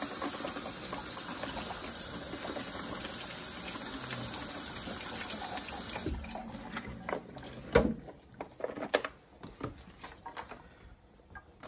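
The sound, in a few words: tap water running while washing grape tomatoes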